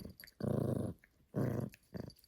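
A small puppy gives two long low growls followed by a shorter one, close and fairly quiet, with brief whimpery sounds between.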